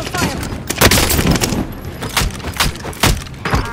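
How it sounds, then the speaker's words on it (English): Hostile gunfire erupts in a video game, with dense bursts of close, loud shots cracking in rapid clusters and scattered single reports between them, continuous over the short stretch. "Receiving hostile fire."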